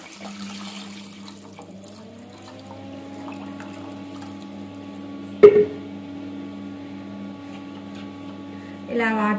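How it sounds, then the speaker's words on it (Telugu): Water poured into a pan while cooking ragi upma, a soft, steady stream over low kitchen hum with a brief splash midway and a fuller gush at the end. "అంటే అండి కావాల్సినన్ని వాటర్ వేసుకోవడమే."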